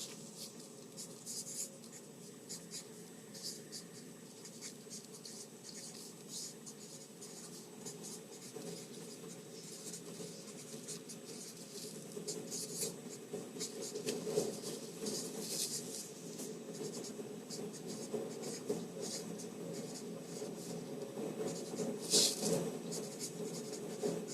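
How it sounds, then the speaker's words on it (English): A sentence is written on a board in a classroom-style lesson, a steady faint scratching and tapping of strokes running for over twenty seconds at low level, with no talk over it. "let me write you a nice sentence up here"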